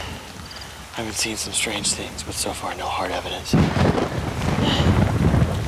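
Steady rain pours down past 4 in the morning with a dense hiss, joined by a heavier rumbling roar partway through, while a person talks over it.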